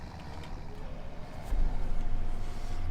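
John Deere tractor engine in Farming Simulator 17, a steady low droning rumble that thickens and grows louder about halfway through, continuous with no talk.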